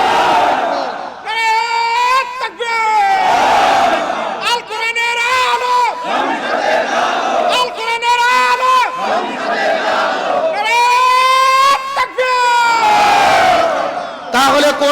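A large crowd at a Bangladeshi religious gathering loudly shouts takbir (Allahu Akbar) in repeated rhythmic bursts of many voices, rising and falling over about fifteen seconds.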